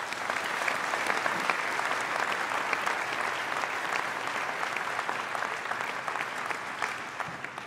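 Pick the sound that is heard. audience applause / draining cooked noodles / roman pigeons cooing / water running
audience applause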